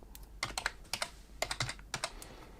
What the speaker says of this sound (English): in our administrator command prompt, what we want to do is type in chkdsk